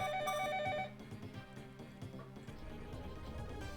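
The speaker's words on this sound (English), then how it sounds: "the phone is ringing again" A telephone rings with a quick trilling bell burst that cuts off after about a second, leaving quiet game music playing underneath in the Fire Emblem: Shadow Dragon video game.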